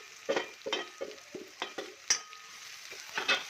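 Vegetables with tomato, red chilli powder and turmeric are stirred in a pan, giving repeated scraping strokes over a quiet sizzle, about eight short bursts in a steady rhythm, close and moderately loud, with no talking.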